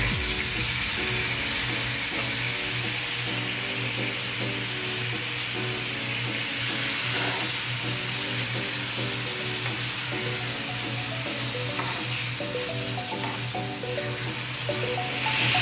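Steady sizzling of a sugar-marinated pork neck steak frying in a pan over medium-low heat, a continuous crackle and hiss with faint clinks, no talking.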